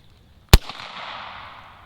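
A single sharp crack from an AEA Defender short-barrel airgun loaded with two 155-grain .457 rounds, followed by a long fading rush of air, loud and close with no talk.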